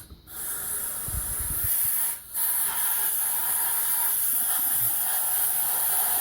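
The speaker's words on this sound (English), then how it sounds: "Spray all the crap off it." A steady, loud hiss of aerosol cleaner sprayed close by onto an electric throttle body, running almost continuously with one brief pause partway through.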